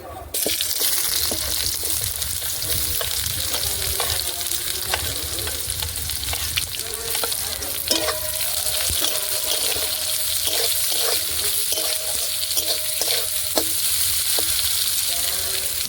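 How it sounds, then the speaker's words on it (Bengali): Bay leaf, whole cumin and chopped onion sizzle in hot oil left over from frying pointed gourd, a continuous crackling hiss broken by a run of scraping stirs from a utensil. "এই পটল ভাজা তেলেই ফোড়নে দিয়ে দিচ্ছি তেজপাতা, গোটা জিরে, দিয়ে দেবো কেটে রাখা পেঁয়াজ"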